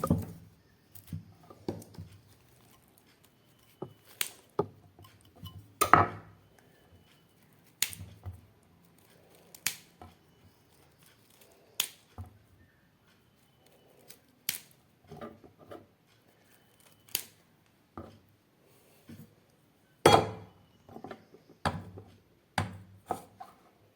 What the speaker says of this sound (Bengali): একদম প্রথমে আমি ফুলকপিটাকে খুব ভালো করে কেটে নেব